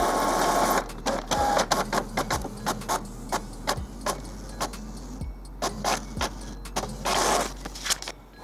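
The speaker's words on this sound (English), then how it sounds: "the print quality report is the bottom option. So we press to go into that. Now this will take just a second." An HP Photosmart 5520 inkjet printer runs a print quality report page, producing repeated rhythmic mechanical clunks and carriage shuttling over a steady motor hum, close and moderately loud.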